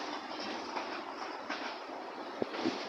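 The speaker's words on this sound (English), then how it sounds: "We've got the trams, the Edinburgh trams." An Edinburgh tram passes along Princes Street amid busy city-centre street noise, a steady rail rumble with a few sharp clanks and rattles near the end, no talk.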